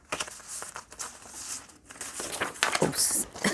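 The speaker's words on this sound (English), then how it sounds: "I'm gonna shuffle this card." Playing cards are shuffled by hand on a table in a series of crisp, irregular riffles and rustles, close and moderately loud, building to a busier flurry near the end.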